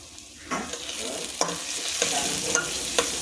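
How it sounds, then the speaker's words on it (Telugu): Tomato paste with turmeric and chili powder frying in oil in a pan and being stirred, a soft continuous sizzle broken by several scraping stirs of a spoon, close and fairly quiet, with no voices. "నూనె పైకి తేరేదాకా మనం దీన్ని వేపుకోవాలండి"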